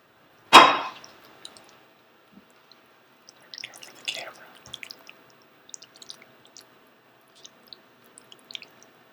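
Food dropped into a pan seasoned with avocado oil, a sharp close splat and sizzle burst at the start, then faint scattered crackles and small wet pops fading into quiet.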